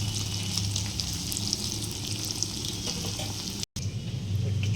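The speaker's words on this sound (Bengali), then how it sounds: "একটু জল দিয়ে দেওয়া হলো মশলার মধ্যে" Spices with ginger in a frying pan sizzling after a splash of water while cooking potato dum, a steady loud hiss and crackle throughout with a brief dropout.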